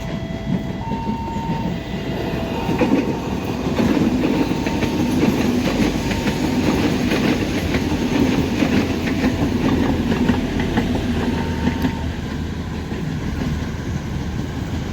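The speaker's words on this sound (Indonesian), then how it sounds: "KA Bandara YIA tiba di stasiun Yogyakarta" The KA Bandara YIA airport train pulls into Yogyakarta station with a loud, steady rumble of rolling wheels and a faint clickety-clack, no voices.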